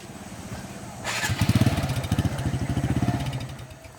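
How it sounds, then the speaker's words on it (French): A motorcycle carrying three riders on a rural road near a bridge starts up close by and revs, its engine putting out a loud, pulsing putter that carries on steadily after a sharp onset. "Vous voyez, la moto même, ils sont sur 3 qui passent."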